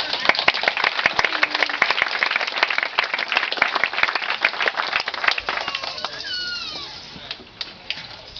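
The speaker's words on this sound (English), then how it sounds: "Everybody give a big round of applause for our dancers." Audience applause for Cherokee dancers at an event in Cherokee, North Carolina: scattered, crisp claps that build into a brief round and then thin out as it fades.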